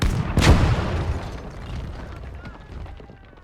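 An artillery shell explodes against a building in the Gates of Hell war game, one heavy booming blast followed by a long rumbling, crumbling tail that slowly fades.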